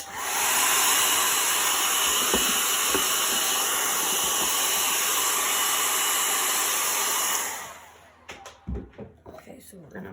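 A heat tool warms a chalk paste transfer on a spinning bistro board, its loud, steady blowing hiss running for several seconds before cutting off, followed by light handling clatter.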